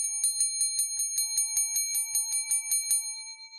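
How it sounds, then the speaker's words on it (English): A small hand bell is rung for a game prize at a bingo-style game, giving about fourteen quick, bright, evenly spaced dings close by with no talk. "Let me give it a bell one more time."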